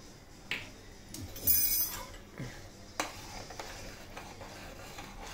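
A spoon stirs thick ragi porridge in a cooking pot, giving scattered light clinks and scrapes against the metal, with a couple of sharper knocks standing out over quiet kitchen background.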